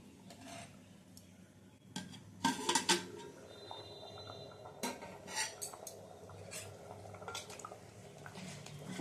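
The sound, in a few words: lifting the lid of a cooking pot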